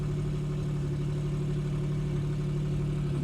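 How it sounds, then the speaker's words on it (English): A 1992 BMW 325ic sits idling with an exhaust leak, giving a steady, continuous low rumble with no change in revs across the short stretch. "I definitely hear an exhaust leak."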